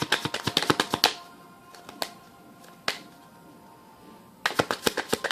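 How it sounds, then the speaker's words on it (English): A burst of rapid crisp flutters from cards being shuffled, then a quieter pause with a few isolated snaps, followed by another quick riffle of cards. "Let me shuffle slowly."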